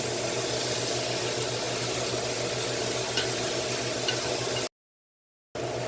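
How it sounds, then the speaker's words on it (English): Finely chopped pimento peppers cook in a pot of Trinidad-style corn soup base over low to medium heat, giving a steady, soft sizzling hiss that cuts out briefly near the end before resuming. "Add 4 finely chopped pimento peppers and cook for another minute on low to medium heat."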